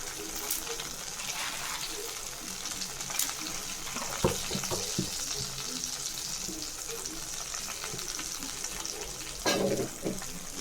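Dried red chillies, cumin and mustard seeds crackle in heated oil in a pan, a soft continuous sizzle with occasional pops and clinks, fairly quiet and close, without talking over it.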